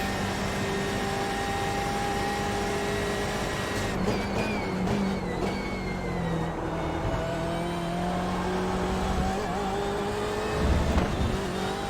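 BMW M8 race car engine in the iRacing simulator at Road Atlanta, a loud sustained high-revving roar held flat out with shifting pitch and brief gear changes, heard up close throughout with no talking.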